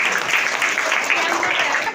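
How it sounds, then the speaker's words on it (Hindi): Steady crowd applause, many hands clapping together at a moderate distance, with no voices standing out. "चलो ताली बजाओ,"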